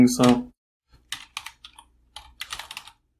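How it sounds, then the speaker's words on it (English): Rapid bursts of key clicks from a computer keyboard as text is typed into a virtual machine during an Arch Linux setup, close and crisp in several short runs separated by pauses, after a brief spoken word at the start. "I will just type in some crap here"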